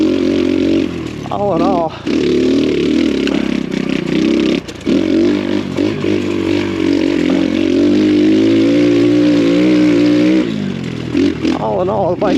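An X Pro Storm 150 DLX dual sport motorcycle runs on a trail, its small engine revving and droning nearly nonstop with brief dips, while a rider talks over the engine.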